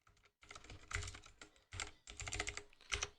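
Computer keyboard typing at a command prompt, close and fairly quiet, in irregular bursts of rapid key clicks separated by brief pauses.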